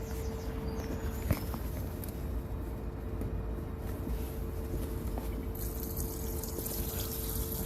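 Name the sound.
waste water draining from motorhome tank tap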